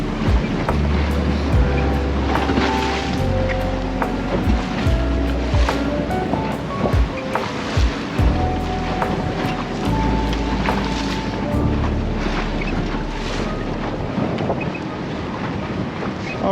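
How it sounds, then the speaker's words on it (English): Rough sea waves slapping and rushing around a small sailboat under way with one person aboard, continuous loud surf and water wash mixed with heavy wind buffeting the microphone, with no voices. "the sea state is somewhat rougher than I imagined it to be today"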